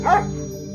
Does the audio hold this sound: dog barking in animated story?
yes